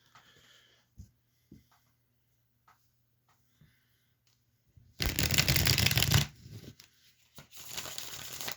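Tarot cards are shuffled in two bursts of rapid riffling, loud and close, after several seconds of quiet taps and handling.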